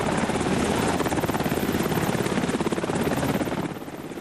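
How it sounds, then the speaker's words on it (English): A helicopter during rescues after an earthquake and tsunami in Japan, its rotor producing a steady rapid chopping throb with engine roar, loud and sustained throughout before easing slightly at the end. "Some people were rescued by helicopter."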